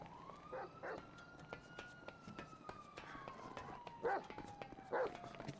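A puppy yaps in several short, bright barks in small clusters, heard alongside a faint siren and people talking.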